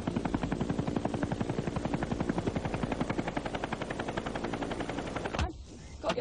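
A helicopter's rotor thumps in a steady, rapid rhythm with a loud engine whine, then the sound briefly drops away before the chopping resumes.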